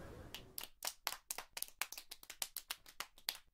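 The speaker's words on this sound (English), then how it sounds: "Please welcome him with a big round of applause." Sparse, scattered hand claps from a game crowd in Steins;Gate Elite patter lightly at an uneven pace, thin rather than a full crowd, ending on one sharp louder hit.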